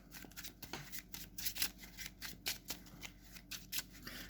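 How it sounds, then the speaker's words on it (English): A Yu-Gi-Oh! card deck being shuffled close up, a series of quick riffling bursts with crisp flutters repeating steadily, no talking. "We'll go ahead, we'll shuffle the deck a little more."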